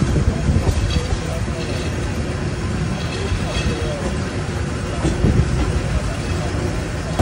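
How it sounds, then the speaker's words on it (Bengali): The Paharika Express train on the Chittagong to Sylhet line pulls into Shaistaganj station, its steady loud rumble and wheel clatter filling the carriage from inside. "আর আমাদের পাহাড়িকা এক্সপ্রেস এসে পৌঁছালো হচ্ছে সিলেটের শায়েস্তাগঞ্জ স্টেশনে"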